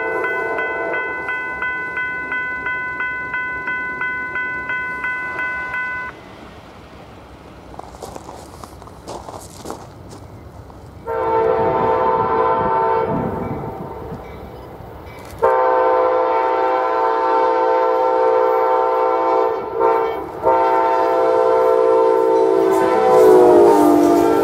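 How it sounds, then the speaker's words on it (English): Amtrak 19, a westbound passenger train near Tallapoosa, sounds several loud horn blasts over the rumble of its passing cars. A steady clatter of wheels on rail continues between the sustained horn calls. "Amtrak 19 westbound,"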